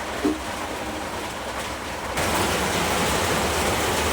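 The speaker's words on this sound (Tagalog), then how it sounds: "Tingnan natin ang lakas ng ulan dito sa amin" Heavy rain pours down steadily, a dense hissing wash that grows noticeably louder and fuller halfway through, continuing unbroken with no voices over it.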